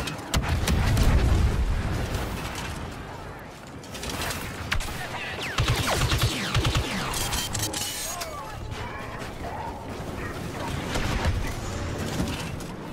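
Grenade blasts and gunfire fill a Star Wars Battlefront 2 battle, with a loud booming explosion at the start and further heavy bursts and rapid fire mid-way, over a constant din of combat.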